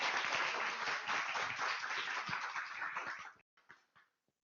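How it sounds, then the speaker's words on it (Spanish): Audience applause after a conference at an international cognitive neuroscience symposium, a thick burst of clapping from a hall crowd, fairly faint, that fades out with a few last claps. "Un fuerte aplauso por esta conferencia muy importante para todos."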